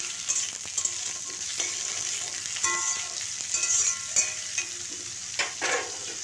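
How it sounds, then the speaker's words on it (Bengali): Eggplant sizzles and crackles in a hot pan, a quiet continuous frying hiss broken by occasional spatters and stirring clinks. "এরপর বেগুনটাকে খুব ভালো করে আমি একটু ভেজে নিচ্ছি।"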